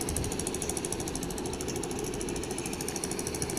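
A ProSpeed scooter engine running, heard as a rapid, steady mechanical rattle and buzz that is close, loud and continuous, with no voices.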